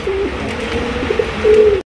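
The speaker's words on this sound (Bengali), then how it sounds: "রেড কালারের জার্মান শিল্ক কবুতর নিতে পারবেন" A pair of red German silk pigeons cooing close by, a steady low murmuring coo that swells near the end before cutting off.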